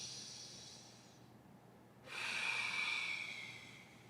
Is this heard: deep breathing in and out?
yes